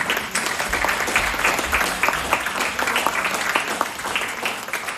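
A room of guests at a community Citizen of the Year dinner gives Kate a round of applause, steady dense clapping with a few sharper hand strikes, filling the whole stretch at even loudness.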